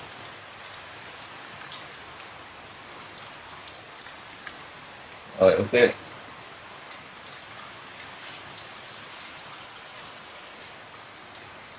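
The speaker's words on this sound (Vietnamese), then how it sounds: "Bây giờ lại mưa to rồi, ngoài trời mưa to lắm các bạn ạ." Heavy rain pours outside in a steady, even patter on surfaces, with a short spoken phrase breaking in near the middle.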